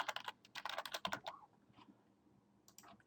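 Quiet, close typing on a computer keyboard: a quick burst of keystroke clicks, a pause, then a couple more taps.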